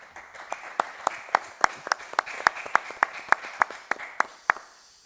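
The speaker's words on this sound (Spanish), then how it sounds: "les pido entonces un aplauso" Audience applause at a Catholic conference round-table session, steady rhythmic clapping in a hall, fairly soft and even, with no talking over it.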